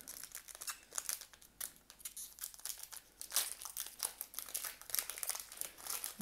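A Pokémon card booster pack is torn open up close, a steady run of crisp crinkling and ripping foil rustles in quick irregular bursts, fairly quiet, with no talk.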